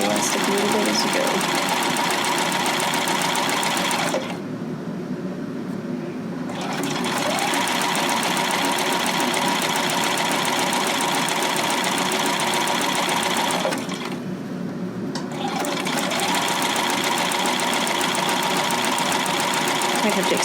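Sewing machine zigzag stitching stretched elastic, a fast steady mechanical whir running close and loud, stopping twice briefly before starting up again, with someone talking at times.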